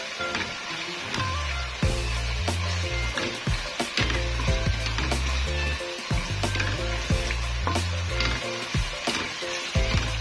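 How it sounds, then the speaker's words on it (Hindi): Gosht for arvi gosht fries in a pan, a steady close sizzle broken by repeated scraping and knocking of a spoon stirring the meat. "गोश्त को अब हम अच्छी तरह इसके अंदर भुनेंगे"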